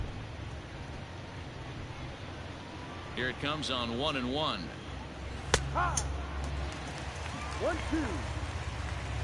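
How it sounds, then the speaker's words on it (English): Heavy rain falling during a Cubs versus Red Sox baseball game, a steady hiss of downpour beneath a play-by-play announcer calling the count, with a sharp crack partway through. "This isn't an easy sport to play in the rain."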